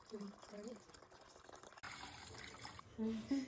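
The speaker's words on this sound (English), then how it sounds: "Before starting this process, and I wash my hands." Hands being washed under a running kitchen tap: a steady broadband rush of water starts partway through and continues, with a voice talking before and over the flow.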